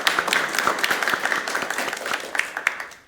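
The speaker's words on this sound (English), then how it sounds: "If we could have a round of applause for these panelists." Sustained audience applause for panelists at a university social work livestream event on disaster resilience leadership, dense steady clapping from a crowd that tapers off at the end.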